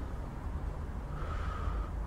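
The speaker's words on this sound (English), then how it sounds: "I hear a man breathing." A man breathing in the stealth game Velvet Assassin, heavy rasping breaths close by over a dark ambient rumble, with no talking.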